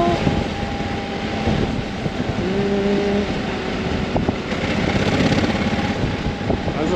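A 2022 Honda Africa Twin motorcycle engine lugs along at low revs while riding, a steady droning rumble with wind noise and a brief faint voice.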